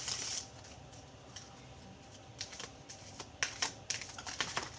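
Tarot cards being shuffled during a reading, with crisp, irregular riffling and snapping clicks that come in a quiet stretch first and then in denser, louder bursts toward the end.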